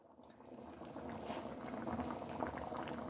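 A pot of beans and greens at a steady rolling boil, with continuous bubbling and popping close by that grows slightly louder over the few seconds, heard alone without talk.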